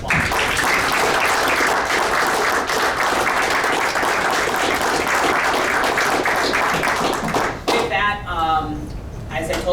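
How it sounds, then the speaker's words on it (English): A city council meeting audience applauds the agriculture program's student leaders: dense, sustained clapping for about seven seconds that thins out as a voice begins speaking. "please give them the round of applause"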